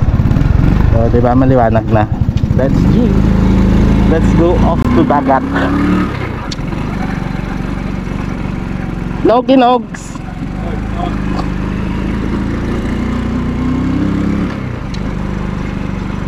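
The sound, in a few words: motorcycle engine running and riding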